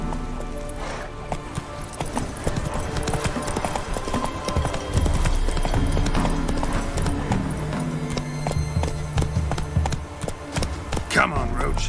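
Hooves of the horse Roach galloping in The Witcher 3, a steady fast clip-clop rhythm running throughout over a dense game soundtrack and ambience.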